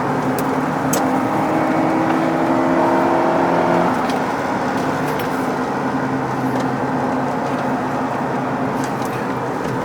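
A Honda CR-V in sport mode accelerates, its engine note droning steadily from inside the cabin with a rising tonal hum that eases off partway through, no talk over it.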